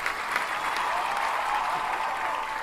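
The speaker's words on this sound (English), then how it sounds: "Dawn is wanting to hear applause" A canned applause sound effect plays during a craft livestream, a short steady wash of crowd clapping at even loudness with no pauses.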